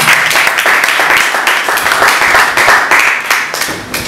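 A church congregation at a Bible seminary in Lyon applauds steadily, a dense, loud wash of clapping that holds for about four seconds before easing slightly at the end.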